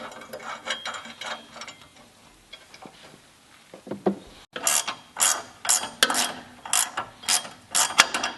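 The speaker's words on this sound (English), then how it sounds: "Once you've secured all the bolts in place," A ratchet tightens bolts on a Jeep JK body-mount tire carrier adapter: a few faint, scattered clicks, then after a short gap a loud, steady series of close ratcheting strokes in an even rhythm, with no voices.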